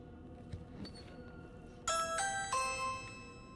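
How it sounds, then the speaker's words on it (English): A bright electronic doorbell-style chime from a crate in The Evil Within 2 rings out in two quick tones over a quiet, faintly noisy background. "This crate made a doorbell noise."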